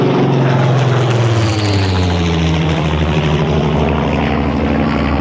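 A Spitfire's piston engine drones loud and close as the plane sweeps in low overhead during a classic and vintage car fun day, its deep throbbing pitch sliding downward as it passes, with no talking.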